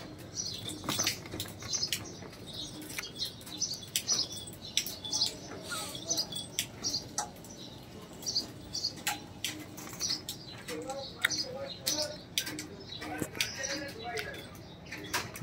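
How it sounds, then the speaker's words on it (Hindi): Crossbred Rampuri and golden pigeons flap their wings in repeated quick clattering bursts, with soft chirps and scuffling between them and a voice speaking faintly at times. "बहुत ही खूबसूरत और शानदार कबूतर है।"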